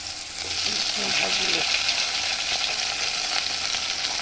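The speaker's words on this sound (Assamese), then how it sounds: "আলুখিনি ভাজি ল'ম" Potatoes sizzle steadily in hot oil in a pan, a loud continuous crackle with a few scraping stirs near the start.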